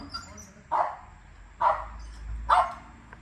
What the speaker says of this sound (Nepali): भुकेको भुकै छ अब जानलाई